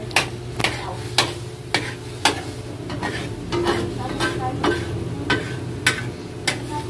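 A ladle stirring soup in a cooking pot, with sharp metallic taps against the rim at a steady rhythm roughly every half second over a low bubbling, simmering background, close by.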